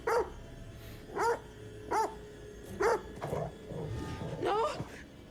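Dog in The Devil in Me video game barking repeatedly, a string of five or six sharp, fairly close barks with whimpering tones near the end, over low game ambience and background rumble.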